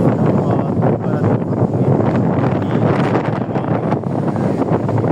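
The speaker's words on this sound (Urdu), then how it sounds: "صرف ہوا چل رہی ہے، اچھی خاصی ٹھنڈی ہوا چل رہی ہے" Strong, cool wind blows after a storm in Punjab, a loud, continuous roar and rumble buffeting the microphone nearby without letup.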